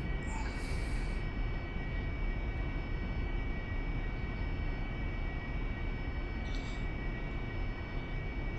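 AV-8B Harrier jet landing on runway 1 in DCS World, a steady broadband engine roar holding at even loudness throughout, with faint high whistling tones near the start and again later.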